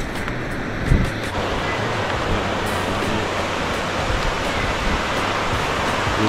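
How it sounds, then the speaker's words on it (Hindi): Water pours steadily at Kundal Shahi waterfall in the Neelum Valley, a loud, continuous rushing roar with a brief thump near the start. "ये बहता पानी, इसकी आवाज़ सुने"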